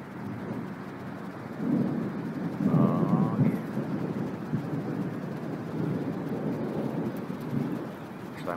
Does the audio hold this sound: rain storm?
yes